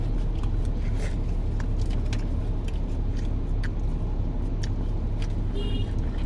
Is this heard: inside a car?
yes